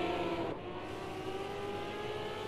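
Race cars at Zolder in a racing video game, engines droning and revving continuously with a brief dip in pitch as they run on, loud and close, with no talking.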